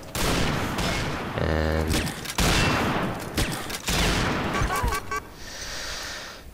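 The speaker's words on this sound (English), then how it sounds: "somebody keeps shooting me in the back" Gunfire in the online shooter Combat Arms, with rapid loud bursts of automatic fire from an MSR rifle and other weapons crackling almost continuously, and someone commenting underneath.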